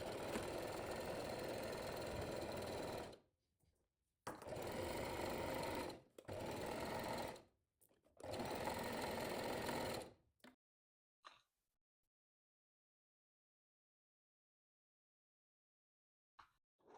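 A sewing machine running a straight stitch at 2.5 stitch length, centred needle, on a 1 cm seam allowance, heard in four loud close bursts of steady mechanical whirring separated by brief pauses and then silence, with no talking.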